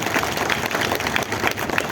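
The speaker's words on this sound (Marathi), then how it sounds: "सर्वांनी मिळून दादांसाठी आपण एक जोरदार टाळ्या म्हणतो" Applause at a hospital inauguration ceremony, a dense continuous burst of many hands clapping from a crowd, loud and even for its brief duration, with no speech over it.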